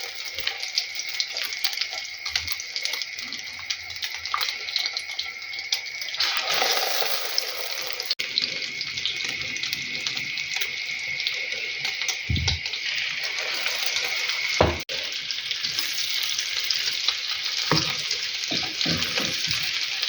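Steady crackling sizzle of zucchini frying in hot oil, continuous throughout, with a few brief clinks and knocks of utensils.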